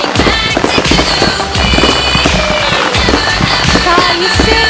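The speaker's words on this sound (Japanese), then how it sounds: "綺麗なヤシの木みたいな花火が3箇所同時に、 3箇所ね、一気に横に広がります" Festival fireworks launched from the coast at the Tottori city summer fireworks display burst and crackle densely and loudly, with layered booms and sizzling crackles filling the whole stretch, and faint voices underneath.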